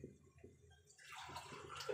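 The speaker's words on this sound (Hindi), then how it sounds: "और अब डालूंगी पानी।" Water is poured from a glass onto rice in a cooking pot with turmeric and salt, giving a short, soft splashing gush that starts after a quiet moment and continues to the end.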